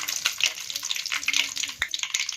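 Curry leaves sizzling loudly in hot oil in a pan while being stirred with a spoon for a tomato chutney, giving close, steady crackling with light scraping throughout.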